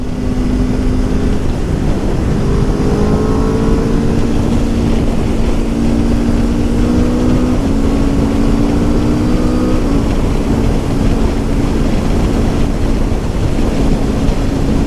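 A 2021 Aprilia RSV4 1100 Factory being ridden, its engine a steady loud drone with rising and falling pitch through gear changes, heavily overlaid by constant wind rush across the microphone.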